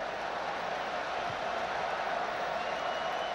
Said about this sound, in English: And the cheers going up from the crowd for every completed pass